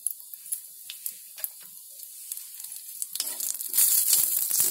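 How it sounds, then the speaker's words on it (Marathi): Almonds and cashews roasting in a little ghee on a heavy griddle over a low flame, giving soft crackles and light pops that build into a denser, louder sizzle toward the end. "थोडासा घी टाकायचा आणि घी मध्ये आहे ना ते चांगलं भाजून घ्यायचं"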